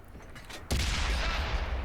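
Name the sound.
tank cannon shots hitting, from video game World of Tanks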